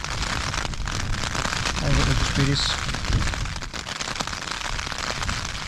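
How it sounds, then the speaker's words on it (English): Rain and wind on a Lanshan 1 Pro tent: a steady dense patter of drops on the fabric with gusty rushing, continuous and close, while a voice speaks briefly. "Bit of wind, bit of rain."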